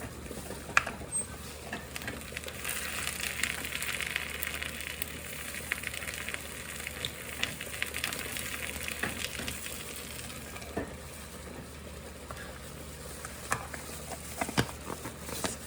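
Onions frying in a pan for a budget meal prep, a steady soft sizzle and crackle at moderate distance, continuous with occasional louder pops, no talking.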